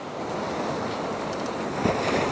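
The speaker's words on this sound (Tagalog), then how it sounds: "Yan malakas din ang alon eh." Strong sea waves roll and break steadily on the shore at Inverloch beach, a loud continuous surf wash with wind across the microphone.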